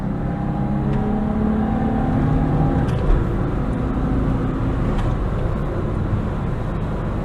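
A 1984 Nissan Cherry Europe drives along a road at around 60 mph, its engine droning steadily with constant road and wind noise throughout.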